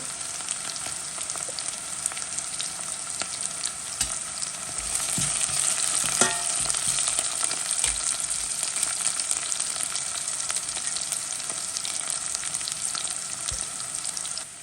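Onions and spices sautéing for a Jaffna-style crab curry, a steady close sizzle and crackle in a hot pan with occasional spoon scrapes and stirs, no voices.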